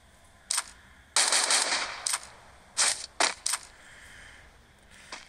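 Gunfire from the Free Fire mobile battle game: several sharp bursts and single shots in a quick, irregular run, loud and close, with short gaps of quiet between them and no talk.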